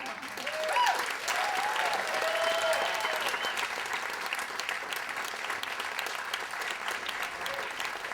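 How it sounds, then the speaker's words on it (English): An audience at a Moth StorySlam storytelling night claps in a steady, sustained round of applause, moderately distant and filling the room throughout. "A round of applause for Rob."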